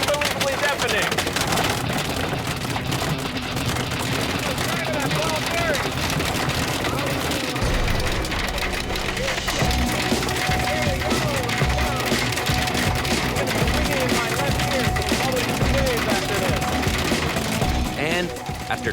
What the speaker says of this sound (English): The impact sound of this hailstones is unbelievably deafening.